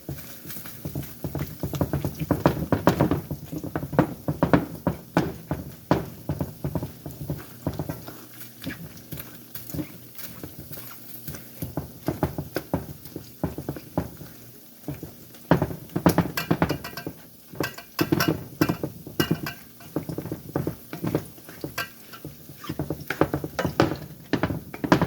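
An uneven frying pan rattles and knocks on a stovetop while salmon patties fry, giving irregular clattering taps that come in clusters close by, with no voices.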